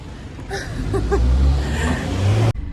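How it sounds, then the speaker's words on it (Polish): A car drives past nearby as a low, rumbling swell that cuts off abruptly near the end, with voices talking over the engine noise. "Zaraz mnie auto rozjedzie, chociaż jest ładne, to może rozjechać."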